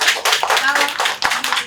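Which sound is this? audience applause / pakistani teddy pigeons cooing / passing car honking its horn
audience applause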